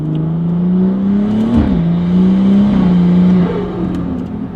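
A BMW F30 fitted with camber plates drives along, its engine droning loud and steady with small rises and dips in pitch, heard from inside the car.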